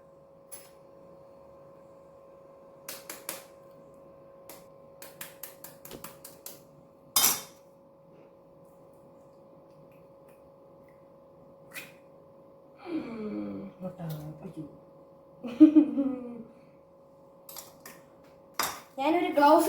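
An egg is added to spiced chicken pieces coated in cornflour, and the mix is stirred in a bowl. There are scattered clinks and taps, then wet, squelching mixing in several bursts toward the end, under a faint steady hum.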